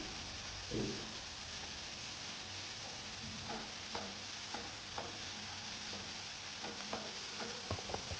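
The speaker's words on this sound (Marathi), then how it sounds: "तेल तापलेलं आहे, याच्यामध्ये कचोरी तळायला घ्यायची आहे।" Pea kachori deep-frying in hot oil gives a faint, steady sizzle with scattered small pops and crackles, heard alone without talk.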